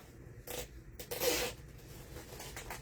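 A plastic zip tie ratchets through its teeth as it is pulled tight while a Halloween wreath is assembled. It gives short, raspy zipper-like bursts, the longest and loudest about midway, and no one speaks.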